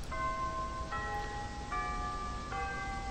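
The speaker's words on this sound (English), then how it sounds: "I'm snapped out of my sleep-induced daze by the sound of the school bell" A school bell chimes in a repeating pattern of four clear, sustained tones, each strike ringing on as the next lands, steady at moderate loudness over a soft background hiss, with no voices.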